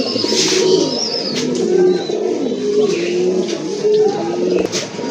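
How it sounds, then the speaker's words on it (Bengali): Red checker pigeons, a large pair, coo steadily in repeated low, rolling phrases, close and fairly loud against a busy background of other birds chirping. "আরেক জোড়া কোয়ালিটি ফুল কবুতর, রেড চেকার কবুতর, বিশাল সাইজের কবুতর।"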